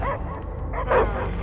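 A dog in the Marvel's Guardians of the Galaxy video game gives a short, close yipping bark with a whimpering edge, loud and brief.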